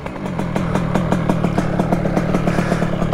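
A 2Fast 100cc motorcycle engine pulling away from a start, its close, loud mid-pitched exhaust firing in a steady rapid pulse with mechanical clatter throughout.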